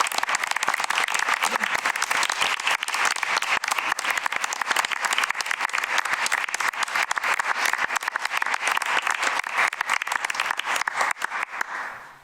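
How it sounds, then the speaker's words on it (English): An audience at a school board meeting breaks into sustained applause, a dense, steady wash of many hands clapping that holds strong before tapering off at the end, fairly close and with no talk over it. "Let's give him a round of applause."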